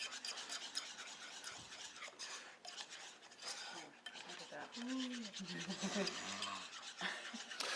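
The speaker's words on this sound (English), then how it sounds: "it's just a matter of kind of whipping the warm ingredients around to get it to finish" Warm ingredients melting in a pan are whipped and stirred with a utensil, producing continuous scraping, rasping strokes against the metal, close and moderately quiet, with faint voices in the background.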